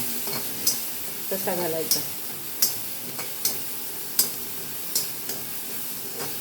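Diced potatoes sauté in a pan with gentle sizzling, while a spoon scrapes and taps the pan at a regular rhythm, close by; someone speaks briefly partway through.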